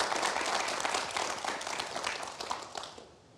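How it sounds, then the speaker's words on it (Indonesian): A studio audience applauds for a guest named Bu Sabita on an Indonesian talk show, steady dense clapping through the whole stretch that eases off and fades near the end. "kita berikan aplaus untuk Bu Sabita"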